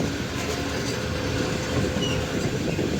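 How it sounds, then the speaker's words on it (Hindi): Shalimar Express train approaching Ghotki railway station in Pakistan, running late; a steady, loud rumble of rolling wagons with faint clickety-clack of wheels on rails fills the whole stretch, no voices. "अब शालीमार एक्सप्रेस अपनी अप्रोच बना रही है घोटकी रेलवे स्टेशन पर।"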